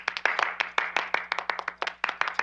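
A wife and child applaud in a TV scene, a small group clapping quickly and irregularly at close range for the whole stretch.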